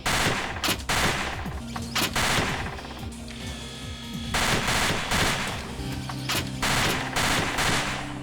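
Beretta 93R firing in the PlayStation game Parasite Eve: loud rapid bursts of automatic gunfire with sharp repeated cracks, pausing briefly mid-clip before resuming over a steady game soundtrack.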